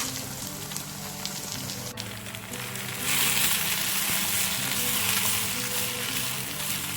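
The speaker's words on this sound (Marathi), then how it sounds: "कांदो आनी टमाट बरें फ्राय जाल्लेले आसा" Onion and tomato frying in a pan for Goan crab xacuti, a dense steady hiss of sizzling that swells noticeably louder partway through and then holds, with no speech.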